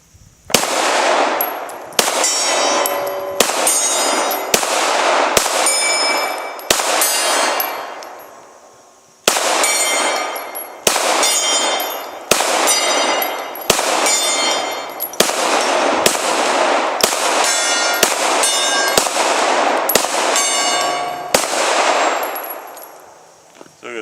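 Glock 17 pistol fired outdoors at steel targets on a hillside, a rapid string of loud shots, each with a ringing metallic clang from the hits, in several bursts with brief pauses and no talk.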